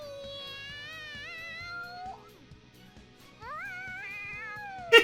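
A cat meows in long, rising, excited calls in the video game Persona 5 Royal, two drawn-out cries separated by a brief pause over quiet background game music, with no talking.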